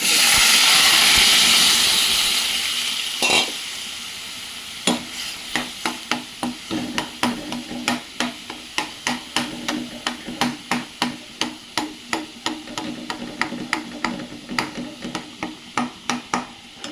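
Dal tipped into a hot tempering of green chillies in a pan lets out a brief hiss, then a long run of quick, regular spoon strokes scraping and clacking against the pan, close and clear.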